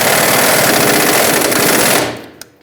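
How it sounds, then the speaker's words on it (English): An air impact wrench hammers in a rapid, loud continuous burst on a rear shock nut of a 2012-2017 Hyundai Accent, cutting off abruptly after about two seconds with a faint click after. "I'm going to put my air impact on it."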